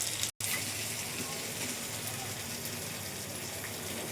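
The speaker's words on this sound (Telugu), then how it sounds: "ఆనియన్స్ ఇవన్నీ బాగా వేగుతున్నాయి కదండి" Onions and vegetables frying in oil in a pan while mutton keema ganji soup is being made. A steady, continuous sizzle, fairly close, with a brief dropout near the start.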